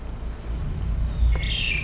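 A recorded bird call sounds once, a lower note followed by a higher, brighter note, short and clear over a low rumbling background.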